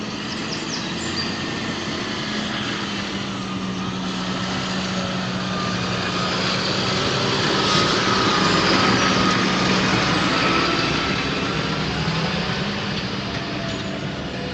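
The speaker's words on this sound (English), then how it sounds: "JCB going up the country lane." A JCB machine drives up an English country lane, its engine giving a steady droning rumble that swells slightly as it passes nearby, then holds at a moderate level.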